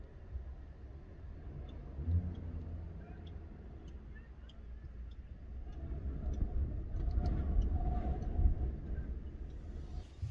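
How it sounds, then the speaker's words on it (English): A loud car drives past on a village road, with a steady low engine and tyre rumble that swells toward a peak near the end, and faint voices in the background. "The car that came past me while I was there. It's very loud."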